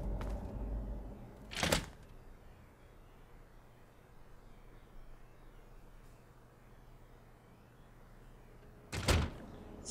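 Two dull door thuds, several seconds apart, as a front door opens in Fallout 3, faint and set against a quiet low hum.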